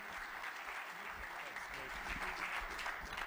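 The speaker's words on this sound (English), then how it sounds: "let's give a big round of applause to NBA Hall of Famer," Sustained applause from a large crowd greeting NBA Hall of Famer Gary Payton at a Clark County government meeting, steady and dense throughout with voices mixed in.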